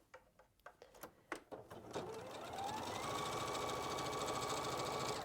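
A sewing machine stitching strips of quilt fabric, right sides together, for a star log cabin quilt block: a few scattered clicks and taps, then a steady continuous whirring run, close and moderately loud.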